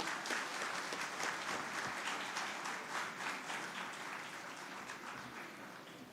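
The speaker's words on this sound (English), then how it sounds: "Please give a huge round of applause to Professor Dr. Imamuddin." Steady audience applause at an international conference on Islamic banking and finance, a dense wash of many hands clapping at even strength that fades slightly toward the end.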